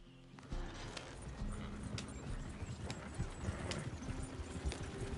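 Horses gallop in Red Dead Redemption II, their hooves clip-clopping in a fast, steady stream of dense thuds, fairly close, with intermittent sharper clacks and a low rumble underneath, no voices.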